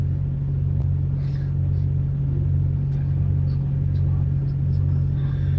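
A Kenworth truck engine idles with a deep, steady low rumble that fills the clip continuously and evenly, with faint higher clicks and rattles scattered over it and no speech.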